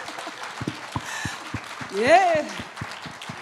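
A forum audience in Seoul claps at moderate volume under a speaker's voice, the scattered claps blending with talk and a short vocal swell near the middle.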